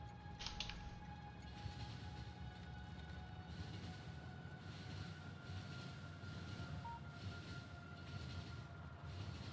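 A train rolls along steadily in the factory-building game Factorio with the Krastorio mod, a low continuous rumble with faint tonal hums running throughout and no talking.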